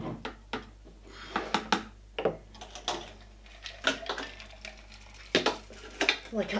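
A knife cuts lime slices for a gimlet garnish, making irregular sharp taps and clicks against a hard surface in uneven bursts.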